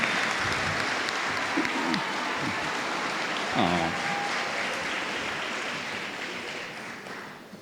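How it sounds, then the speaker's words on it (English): A graduation audience claps in a long, steady round of applause, with brief cheers and voices rising above it in places, gradually fading toward the end. "Let's give one more round of applause for both Sebastian and Cesar."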